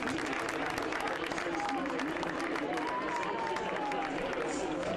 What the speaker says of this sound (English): And he gets a rousing round of applause